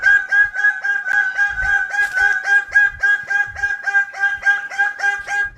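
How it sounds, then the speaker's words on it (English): A bird calls over and over in a steady, rapid series of loud, close, rhythmic honking notes, repeated without pause across the whole stretch. "here one bird was determined to upstage him"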